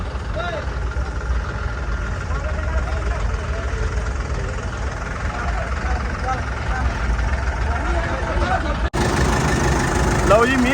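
A tractor engine rumbles steadily at a low idle on a road in Punjab, India, while people talk over it; the engine noise shifts slightly near the end.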